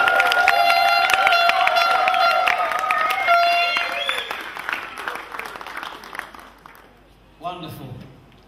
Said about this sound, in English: Let's give Genard and Judith a big round of applause.